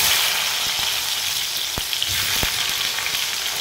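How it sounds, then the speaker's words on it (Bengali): Chopped onions hit hot oil with panch phoron for a Bengali lote fish jhuri, giving a loud, steady, close sizzle and a couple of sharp clicks from the pan. "এর মধ্যে দিয়ে দেবো পেঁয়াজ কুচি।"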